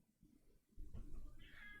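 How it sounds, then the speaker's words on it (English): A house cat meows indoors, one drawn-out, fairly faint cry rising after a brief quiet start, heard alone with no speech over it. "Nope, that was a kitty."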